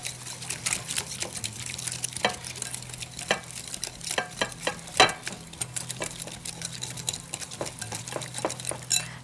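A spoon or hand mixes spices into a fish marinade, making steady wet scraping and clicking close by, with sharper ticks scattered throughout and no talking.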